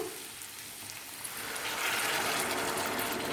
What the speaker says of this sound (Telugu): నీళ్ళు వేసుకుంటున్నాను